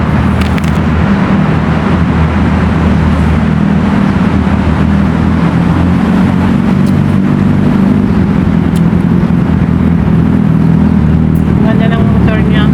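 A motorcycle engine drones loudly and close for the whole stretch, with a continuous low rumble on a busy road, and traffic noise mixed in.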